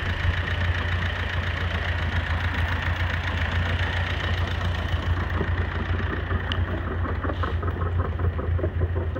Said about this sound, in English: you have to throttle the engine up to propel the snow far enough